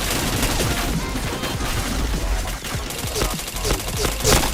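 Rapid gunfire bursts and explosions from a video game shooter crackle in quick, dense volleys throughout, loud and continuous with short sharp transients near the end.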